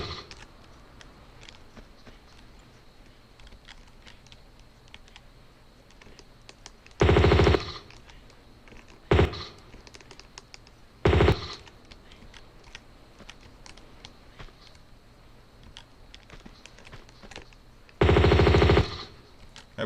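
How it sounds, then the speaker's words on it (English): Bursts of M16 automatic gunfire aimed at armed goons on a catwalk in Tomb Raider 2, four loud separate volleys of varying length over a low steady background, fired close. "let's go ahead and get out our M16 to try to shoot those guys up there on the"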